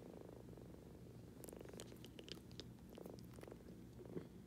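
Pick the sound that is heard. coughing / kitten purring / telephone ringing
kitten purring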